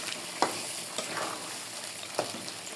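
Mutton frying in a pan gives a continuous close sizzle, broken by three soft utensil taps spaced across the moment, with no voices.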